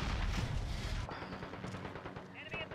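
Rapid automatic fire from a Grau 5.56 rifle in a hardcore-mode shooter game, a dense loud burst for about the first second, then scattered quieter shots and game noise under a talking player.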